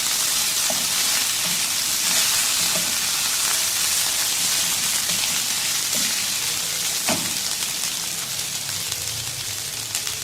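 Garlic paste frying in a pan, a steady close hiss and crackle of sizzling oil with occasional stirring scrapes, continuous throughout.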